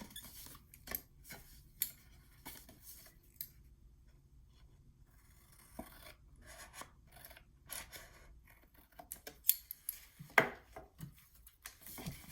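Sharp scissor snips cut through patterned 8x8 paper while trimming a file folder album, coming as scattered, quiet, close strokes with short pauses between, and the snips cluster more densely toward the end.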